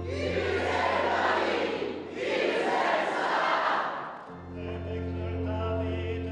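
A fervent crowd at the Saintes-Maries-de-la-Mer procession roars and cries out in two loud swelling waves, then gives way to a steadier, tonal hum of massed voices.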